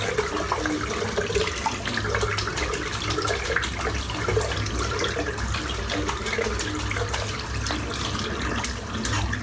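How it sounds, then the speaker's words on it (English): Tap water runs steadily into a sink as a shaving brush is rinsed, a continuous close splashing gush with small shifts in tone, no voices. "I'll just rinse my brush out while that's drying in"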